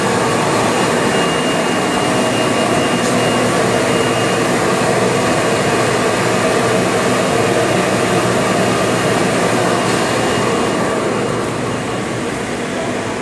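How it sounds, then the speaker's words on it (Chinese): The main unit of a centralized material feeding system starting up: a loud, steady broadband roar like a large blower or fan, continuous and close with no clear pauses, easing slightly near the end. "开始启动主机。"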